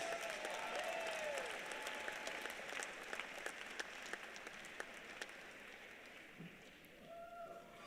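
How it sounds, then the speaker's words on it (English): Audience applause fills a gym during an awards recognition at an MIAA college volleyball tournament semifinal. Steady, dense clapping runs throughout with a few sharper claps, and a faint whistle-like tone appears near the start and end. "A round of applause for your all MIAA second team selections"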